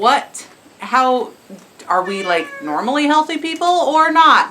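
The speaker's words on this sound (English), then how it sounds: "Please excuse the cats bawling." Cats meow repeatedly inside a goat barn, the cries rising over and between a person talking close by.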